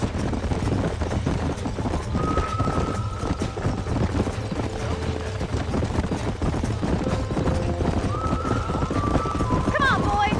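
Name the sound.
horses galloping and neighing, from video game Red Dead Redemption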